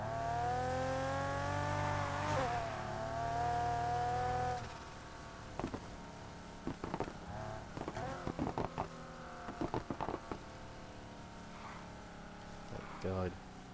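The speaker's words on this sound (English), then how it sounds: "what kind of exhaust is that?" A car engine in Need for Speed Heat drones and revs loudly through its exhaust for a few seconds, then cuts off; afterwards scattered voices and short bursts of talk over a quieter background.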